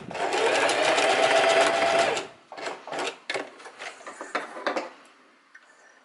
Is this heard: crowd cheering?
no